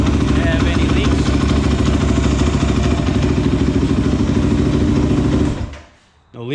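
Kawasaki KFX450 ATV engine, a 2009 model, idling after a water pump rebuild, a loud steady clattering run that cuts off near the end; close up.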